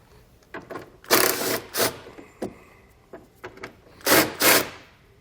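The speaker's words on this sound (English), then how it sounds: "Then we'll take our 8mm socket. We're going to start on one side. We're going to remove all the bolts that run across the bottom side" Ratchet and socket work on the lower fascia bolts of a 2014 BMW X3 using an 8mm socket: several short, sharp mechanical bursts spaced irregularly, close and fairly loud, with quiet gaps and no talk.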